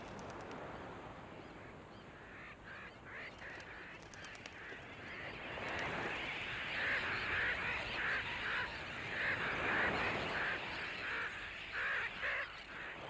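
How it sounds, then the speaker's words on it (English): A large colony of seabirds at a nesting site on Raine Island, at the northern end of the Great Barrier Reef, calls in dense overlapping honking cries over a steady outdoor wash. "it is also an important nesting site for seabirds"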